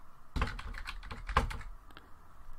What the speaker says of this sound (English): From there, I'm typing in my password.